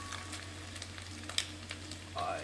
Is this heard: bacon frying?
yes